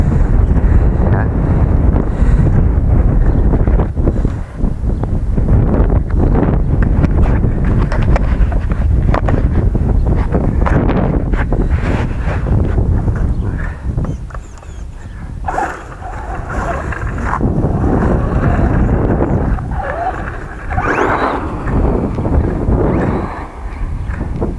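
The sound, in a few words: strong wind gusts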